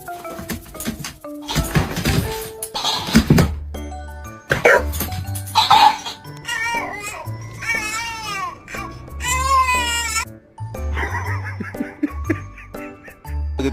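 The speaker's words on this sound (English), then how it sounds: "Look at these dogs, bro. They out here ganging up on the mailman." Several dogs barking and yelping in a noisy outdoor scene, ganging up on a mailman stuck in his car; loud, overlapping barks and cries in bursts through the whole stretch.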